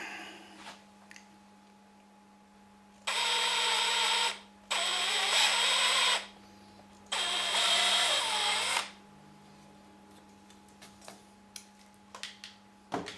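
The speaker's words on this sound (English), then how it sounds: "when I drill the hole in the board, I set a depth stop for a deeper cut" A power drill bores a hole into a wooden board fitted with a depth stop, during a handplaned coat hanger build: three loud, close bursts of whirring, each about one and a half seconds, separated by short pauses, with faint ticks and a steady low hum between.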